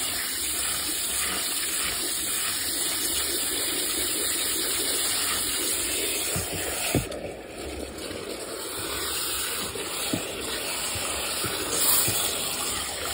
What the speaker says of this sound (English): the water is pouring out of the bottom here